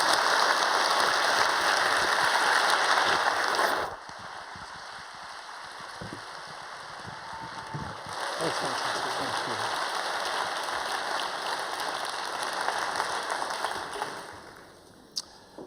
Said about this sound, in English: Please give Hamdi a huge round of applause.